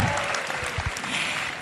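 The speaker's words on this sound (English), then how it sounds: "give yourselves a round of applause for being an amazing audience" Audience applause at a Miss Universe preliminary competition, a dense wash of clapping heard briefly and moderately loud throughout.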